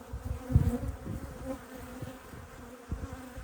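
Honeybees buzzing on an opened hive frame during an autumn hive inspection, a steady close-up drone with scattered louder swells from individual bees, no talking.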